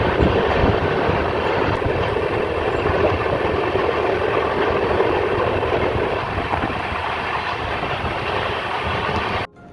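South Bihar Express train running through the small Jetha station without stopping, a steady loud rumble and rattle of the moving carriages heard from on board, ending abruptly.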